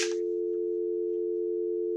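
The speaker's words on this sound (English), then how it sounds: "I've got a dial tone." A steady, continuous landline dial tone from a cell-to-landline adapter hums alone at an even level, preceded by a brief click at the very start.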